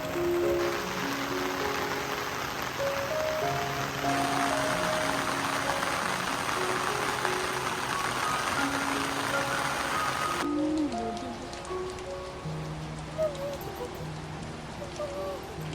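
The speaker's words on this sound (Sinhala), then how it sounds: "ඔන්න කළු කරලා වහින්න පටන් ගත්තා." Steady rain falls throughout in Nuwara Eliya, a constant hiss with a low engine-like hum beneath; the texture shifts and thins slightly near the end.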